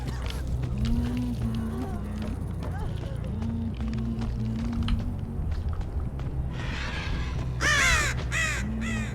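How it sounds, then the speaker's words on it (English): Crows cawing in the horror video game Dead by Daylight, a series of harsh calls over a low droning game soundscape, with someone talking through much of it. "Shut up, crows!"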